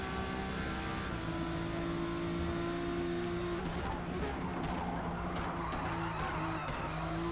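Race car skidding and sliding on track in the Forza Motorsport racing game, steady engine drone with harmonic whine and scrubbing tire noise, no talk.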